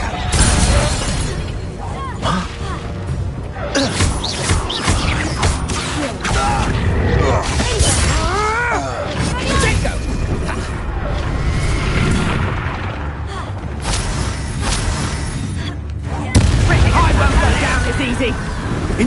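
Incendio fire spells bursting during a Hogwarts Legacy battle on PS5, with booming blasts and crackles layered over continuous loud combat effects and voices throughout.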